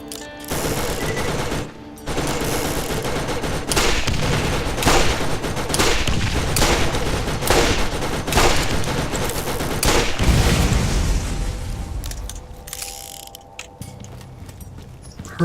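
Rapid gunfire and blasts from the Borderlands video game, set at Treacher's Landing, a dense run of loud shots and bursts ending in a big explosion that tails off near the end.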